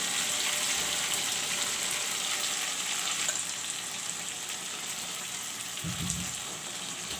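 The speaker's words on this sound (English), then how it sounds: "I will let the masalas fry." Ginger garlic paste frying in a pan with coriander, cumin, black pepper, garam masala paste and chilies for mutton curry, a continuous moderate sizzle and crackle with a brief low thump near the end.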